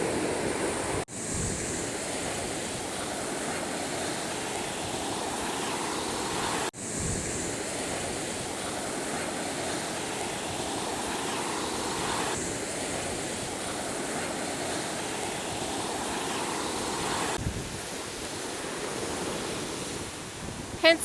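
Gulf of Mexico waves wash along a beach in a continuous broad surf roar, with wind buffeting the microphone and a few abrupt bumps.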